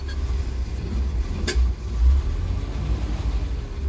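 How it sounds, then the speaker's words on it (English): An old fire truck engine, not yet fully warmed up, revs in second gear with the clutch in. Its steady low drone swells briefly under a light blip of throttle, then settles. "Clutch in and give it a little bit of throttle."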